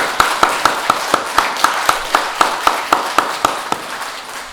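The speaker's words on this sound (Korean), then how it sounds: "하나님 앞에 영광의 박수 한번 다시 한번 드립니다" A church congregation at a Korean Sunday service in New Jersey claps in an even, steady rhythm, a brisk run of sharp, evenly spaced claps filling the hall at close range.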